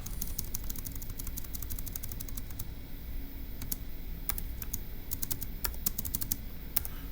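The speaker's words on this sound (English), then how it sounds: "let's type it up." Rapid key presses on a computer keyboard, quiet and close, coming in irregular bursts of clicks over a faint low background hum, with no talking.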